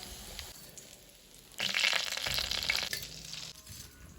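Thread chicken sizzles in a frying pan, a soft background crackle that swells into a brighter, louder hiss of oil for a couple of seconds before settling back to a gentle sizzle.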